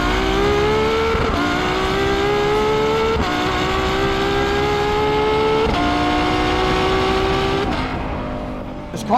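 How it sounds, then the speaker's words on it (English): A Ferrari LaFerrari hypercar engine pulls loud and close while driving, rising in pitch through several gear changes, each shift dropping the tone before it climbs again, with a brief lull at the end. "what it's like driving a LaFerrari, the ultimate hypercar"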